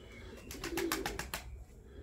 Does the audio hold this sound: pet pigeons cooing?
yes